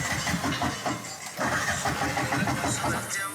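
A small tuk-tuk engine strains and labours over a potholed, ribbed road, a continuous gritty rumble close by with voices talking over it.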